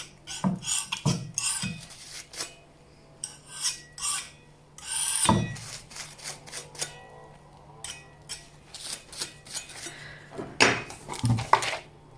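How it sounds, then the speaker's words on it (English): A scraper drags back through wet acrylic paint on a stencilled canvas of coneflowers, giving repeated rasping scrapes in short bursts with pauses between, close and fairly loud, with no talking. "I'm just going to take the scraper, and I'm just going to scrape back into this a little bit."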